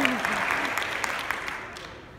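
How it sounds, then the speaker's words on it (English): An audience at a talk claps together in a short burst of applause that fades away while a voice speaks over it. "You can clap"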